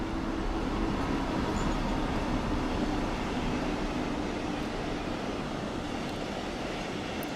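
A train in a railway simulator set in Hamburg runs with a steady, even rumble and a faint sustained tonal hum beneath it, continuous throughout with no voices.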